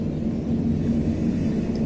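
An airplane passes overhead with a steady, low, continuous rumble that stays at an even level, with no one speaking over it.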